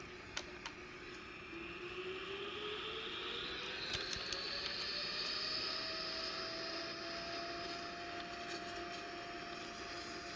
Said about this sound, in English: So we are ready for takeoff. So advance the thrust levers forward and the flaps for takeoff